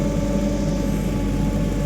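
A Sonalika tractor engine runs in the rain, a steady, close mechanical drone with a low, even throb and no clear revving.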